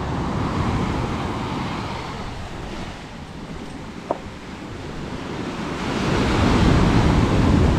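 Ocean waves wash onto a wide sandy beach lined with coconut palms, a steady roaring surf with wind noise that swells louder toward the end.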